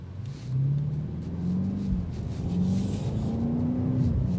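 A 2025 BMW X5 M Competition accelerates hard, its engine rising in a steady climbing drone through several upshifts, heard from inside at a moderate, continuous level with no talking.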